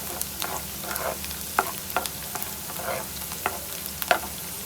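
Spices fry in a pan for chicken karahi, a steady sizzle broken by repeated short scraping strokes as the mixture is stirred, close and clear.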